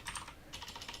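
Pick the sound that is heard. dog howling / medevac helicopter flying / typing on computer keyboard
typing on computer keyboard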